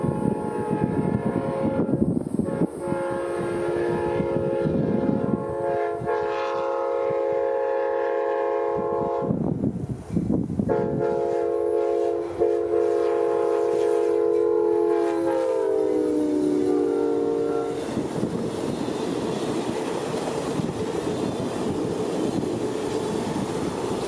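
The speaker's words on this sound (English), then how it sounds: "This P968 would be the northbound version of P937, but he'd be slowing down to stop at the Sebring Amtrak station" An Amtrak train, P968, passes near Sebring with its horn sounding in long loud chords that break off briefly and then fall in pitch as it goes by. The blasts sit over a steady rumble of rolling wheels.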